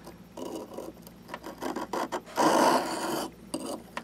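A Mora knife blade drawn across an oiled sharpening stone, giving close, irregular rasping strokes of varying length with short pauses between them, one longer and louder pass in the middle.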